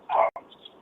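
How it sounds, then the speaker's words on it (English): A dog gives a single short, muffled bark nearby, followed by a faint whimper-like trailing sound against quiet background noise. "Sorry, my dog's barking."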